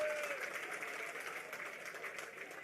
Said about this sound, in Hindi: सभी के लिए जोरदार तालियां बजा के एक बार उनका अभिनंदन कीजिए।